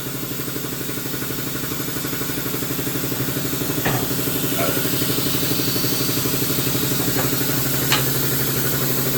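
A tyre changing machine runs with a steady, close mechanical hum and rhythmic rattle, broken by a few brief clanks, as a person talks over it.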